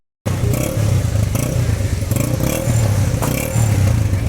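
Motorcycle engines idling and revving at a busy motorcycle market, with clattering and scraping of bikes being moved, a steady loud rumble throughout.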